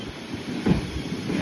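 Inside a train on an overnight journey, a low continuous rumble with a faint rhythmic clatter runs steadily, moderately loud and close, with no talking.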